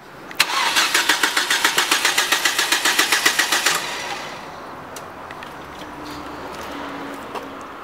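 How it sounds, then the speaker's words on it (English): A Ford XR5 car engine cranks with a fast, loud rhythmic starter whir for several seconds, then catches and settles into a steady idle with a few faint clicks, close by and without speech. "Start the engine."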